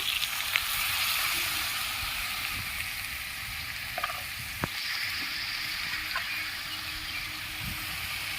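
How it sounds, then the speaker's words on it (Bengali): Chickpea dal with jackfruit cooking in a hot pan after a little salt and water are added, giving a steady broadband sizzle and simmer throughout with a few soft clinks and stirring knocks, no voices. "সামান্য একটু নুন দিয়ে দিচ্ছি সামান্য একটু জল দিয়ে দিচ্ছি"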